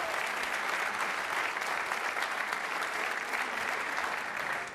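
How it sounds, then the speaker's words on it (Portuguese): Studio audience at a television game show claps steadily and loudly, a thick, unbroken wash of applause for a contestant that holds its level until a slight drop at the close. "Mais um aplauso para a Sofia, Sofia está de parabéns."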